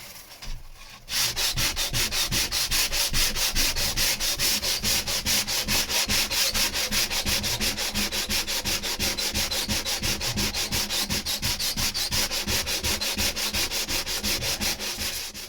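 Sandpaper rubbing by hand on the underside of a boat deck, keying up the surface, in fast, steady back-and-forth strokes that keep going without pause, close up and loud.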